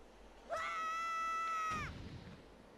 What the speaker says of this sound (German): Link, schrei doch nicht so